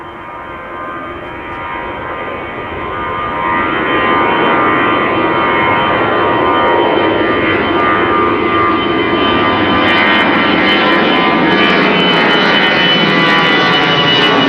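A jet airliner on the Kaagbaan runway at Amsterdam Schiphol Airport produces a loud, sustained engine roar that builds over the first seconds and then holds steady as it passes, with no talking.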